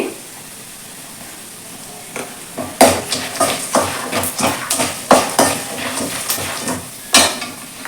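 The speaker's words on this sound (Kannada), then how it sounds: "ಇದನ್ನು ಕೂಡ ಫ್ರೈ ಮಾಡ್ತಾ ಇದ್ದೀನಿ ನಾನು ಇದಕ್ಕೆ ಸ್ವಲ್ಪ ಅರಿಶಿನ ಪುಡಿ ಇದು ಲೋ ಫ್ಲೇಮಲ್ಲೇ ಇರಲಿ" Tempering with curry leaves and turmeric powder fries on a low flame for North Karnataka puffed rice, with a faint sizzle under repeated spoon-on-pan clatter and scraping as it is stirred.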